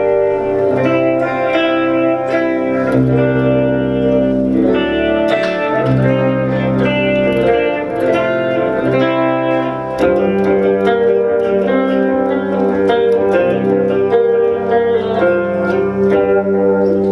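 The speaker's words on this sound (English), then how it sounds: "nice clean tone, doesn't get used very often" A clean electric guitar tone through an Atomic Amplifire 6 amp modeler plays sustained chords and notes with reverb and a chorus-like shimmer, loud and continuous with no talking.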